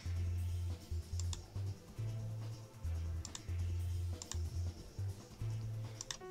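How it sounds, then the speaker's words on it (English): Computer mouse clicks come in quick, sharp, faint bursts during a Duck Life speedrun, sitting over steady game music with a low repeating tone and no talking. "they can hear my mouse clicks"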